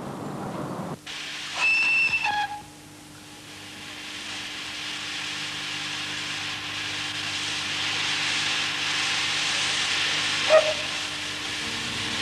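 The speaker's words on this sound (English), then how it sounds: "witness the final run of a London Transport steam train" A London Transport steam locomotive on its final run gives a short bright whistle blast near the start, then a long, steady roar of hissing steam builds and fills the rest, with a brief squeal near the end.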